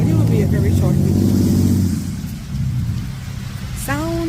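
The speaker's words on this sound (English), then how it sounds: "Sound of the car." A car passes along a wet street in the rain, its engine and tire hiss rising and fading close by while a voice talks over the first half.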